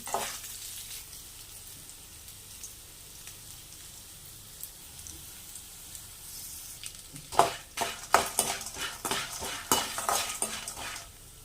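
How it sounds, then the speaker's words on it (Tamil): Dried turkey berries (sundakkai vathal) frying in oil in a kadai, a faint low sizzle at first, then louder crackles and scraping stirs toward the end, no voices. "சுண்டவத்தல் நம்மளுக்கு எவ்வளோ தேவையோ அந்த அளவுக்கு நம்ம போட்டு வறுத்து எடுத்துக்கணும் எண்ணெயில்"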